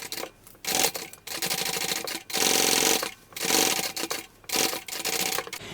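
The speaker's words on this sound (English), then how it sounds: "We're going to sew this together with the seam allowance given in the pattern." Domestic sewing machine stitching the lining of a small bucket bag together, a close whirring run of rapid stitches in several bursts separated by brief pauses.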